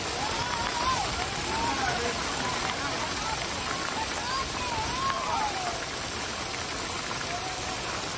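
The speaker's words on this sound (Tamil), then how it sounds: "கொடைக்கானலில் சுமார் 1 மணி நேரத்திற்கு மேலாக பெய்த கனமழை." Heavy rain pours in Kodaikanal, with hail reported in places, a dense, continuous hiss of rain on surfaces that fills the whole stretch, with faint rising and falling whistle-like tones drifting over it.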